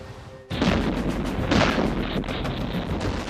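Gunfire and shelling in 1916 Dublin, a sudden heavy boom breaking in after a quiet moment, followed by a sustained rumbling roar of explosions and blasts, loud and close.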